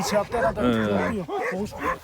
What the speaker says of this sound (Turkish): Maşallah ama köpek güzel köpek.